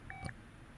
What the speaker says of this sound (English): Oh, that was the phone.